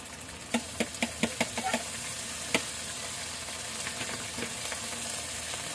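Shrimp paste (bagoong) sizzles and fries steadily in a pan, with a quick run of sharp utensil taps and scrapes early on, then a single knock and softer stirring clatter over the continuous hiss.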